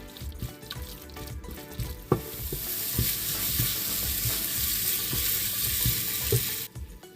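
Chicken biryani masala with turmeric and garam masala sizzles in a pan while a spoon stirs it, giving steady loud frying hiss with repeated scraping knocks and no talk.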